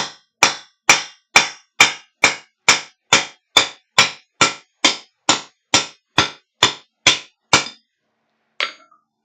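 A ball peen hammer strikes metal in sixteen evenly spaced, sharp ringing blows, loud and close, then stops before one last lighter tap.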